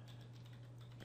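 Quiet typing on a computer keyboard, soft rapid key taps over a steady low electrical hum, with no voices.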